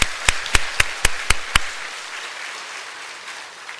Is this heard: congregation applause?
yes